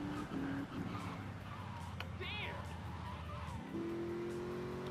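A fast car driven in GTA Vice City, its engine droning steadily with a brief tire squeal, while someone talks over it.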